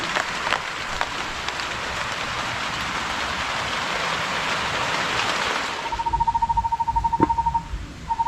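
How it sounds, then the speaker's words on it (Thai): Steady rain falling outdoors during a wild yam digging trip, a dense even hiss of drops that runs for several seconds before easing, with a faint tone and thumps near the end. "ฝนตกแล้ว"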